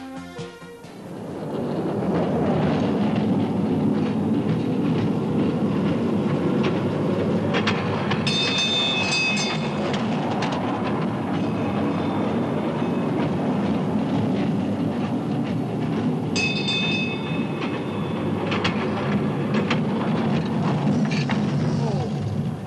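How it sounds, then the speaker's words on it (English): A backyard ride-on train rolls along its rails at a home, a steady rumbling run with rhythmic clacking of wheels over track joints and occasional high metallic squeals, continuous and close for most of the stretch. "Bruce owns this train"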